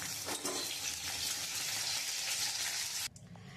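Green chillies, garlic, black cumin and dried chillies fry in hot oil, a dense close crackling sizzle for about three seconds that then cuts off sharply to near quiet.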